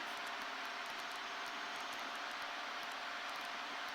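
Light training airplane engine droning steadily during an ILS approach to a runway, a constant, fairly loud hum inside the cockpit with no other sounds over it.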